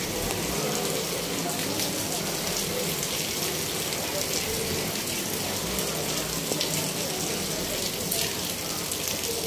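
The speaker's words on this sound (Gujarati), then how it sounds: "ધીમીધારે વરસાદ ચાલુ થઈ ગયો છે" Light rain falls steadily, a dense, even patter and hiss that runs unbroken throughout without a distinct voice standing out above it.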